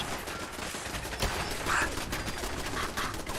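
Gunfire strikes the player in the video game Fallout, a dense stream of sharp shots and impacts spread steadily across a few seconds at moderate loudness with no talk.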